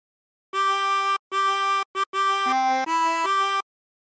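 Chromatic harmonica plays a short Drunken Sailor phrase as a series of sustained, reedy single notes with brief gaps between them. The notes are clear and close, with no talking.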